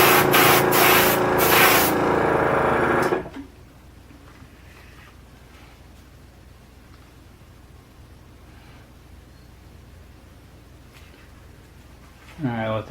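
A spray can lays a coat of paint onto a plastic model kit in a loud hissing burst of about three seconds. Quiet follows, then a short spray or rustle at the end.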